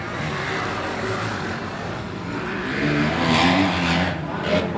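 A Yamaha YZ250 two-stroke motocross bike revs through a race at an Arizona motocross event, its engine note rising louder near the end over steady track noise, with faint commentary underneath.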